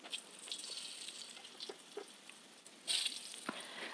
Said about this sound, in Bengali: প্রথমে আলুটা ভেজে নেবো